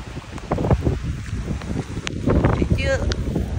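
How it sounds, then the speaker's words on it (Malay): Outdoor wind gusting during a spring picnic, rumbling microphone buffeting and rustle at moderate level, with people talking and a brief higher voice over it. "Berangin. Ui, angin dia."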